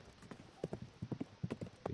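Horse hooves clip-clop in the video game Everquest, a steady, fairly quiet walking rhythm of distinct hoof strikes with no voices over it.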